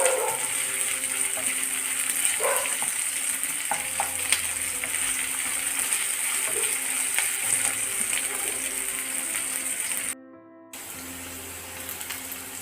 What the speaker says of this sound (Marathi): अनियन आणि शिमला मिर्चला पण थोडंसं पिंकिश होईपर्यंत फ्राय करायचं